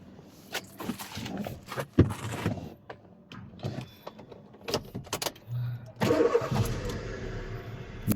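A 2014 Hyundai i20 Sports petrol car with 77,000 km on it, heard through a run of knocks and clicks, then its engine cranking and catching into a close, steady idle.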